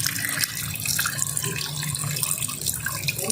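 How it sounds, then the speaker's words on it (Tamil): Dal lentils are washed by hand in water for sambar rice, a close, continuous swishing and splashing like a running tap into a sink or bowl. "ஸோ இப்போ பருப்பு வந்து நம்ம கழுவிட்டு இருக்கோம்."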